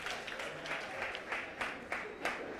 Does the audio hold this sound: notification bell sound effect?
no